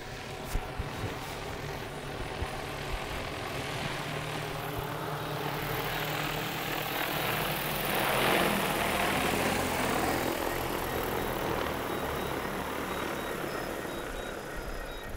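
A DJI Agras T20P agricultural spray drone flies overhead mapping a field, giving a steady, continuous rotor drone that swells slightly midway as it passes nearer, with no talk.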